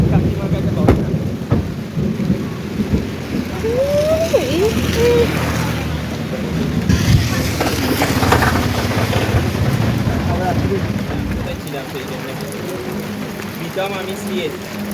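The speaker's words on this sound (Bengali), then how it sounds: "প্রচণ্ড বৃষ্টি এসে গেছে" Heavy rain with thunder rumbling during a stormy outing, a loud broad wash of downpour and wind buffeting the microphone throughout, with a low rolling boom midway and faint voices briefly audible.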